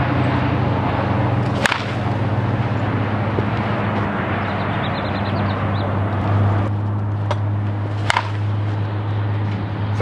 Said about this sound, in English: Sounds like a wood baseball bat though.